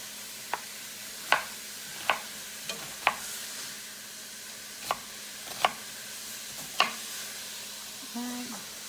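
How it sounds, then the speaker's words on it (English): Sausage being stirred in a pan, sharp spoon scrapes and taps against the pan at irregular intervals over a faint steady sizzle. "Sanjay's going to stir the sausage for me."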